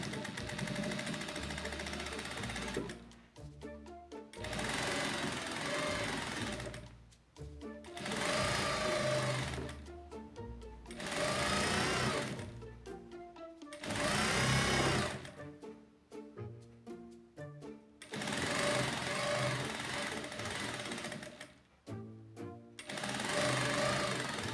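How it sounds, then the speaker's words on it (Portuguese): A domestic sewing machine stitches a seam joining lace insertion trim to green fabric for a dish towel, running in loud steady bursts of a few seconds each, separated by short pauses and light handling clicks. "Vou passar a costura aqui, prendendo esse entremeio no meu tecido."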